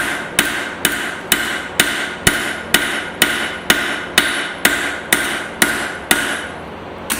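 Hot iron and steel hammered while forging San Mai, a loud, close, steady rhythm of about fifteen evenly spaced metallic blows, each ringing briefly before the next.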